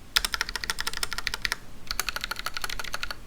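A custom mechanical keyboard with Holy Panda switches, a brass plate and rattling stabilizers is typed on in quick, crisp, close-up bursts of clacks. A short pause breaks the typing before another flurry, and no one speaks.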